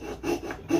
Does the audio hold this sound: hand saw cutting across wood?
yes